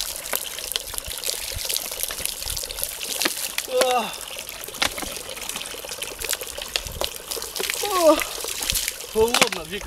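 Water poured from bottles over a person outdoors in summer, a continuous splashing trickle under nearby chatter and exclamations, with short vocal outbursts as the cold water lands.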